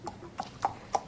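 Horse hooves clop in an even rhythm as a horse is ridden, four distinct hoof strikes close by and clear against a quiet background.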